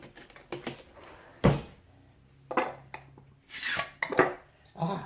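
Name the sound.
opening a bag of dehydrated broccoli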